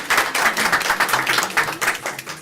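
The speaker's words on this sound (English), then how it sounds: "One more round of applause for." Audience applause at a school district governing board meeting: a brief, moderately loud round of clapping with distinct individual claps, no talk over it.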